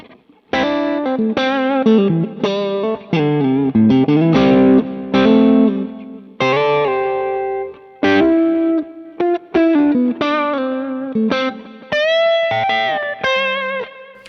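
Overdriven electric guitar through a Klon-style overdrive on a digital modeler, with a bright, crunchy edge, plays choppy chords and melodic licks, with brief pauses between phrases.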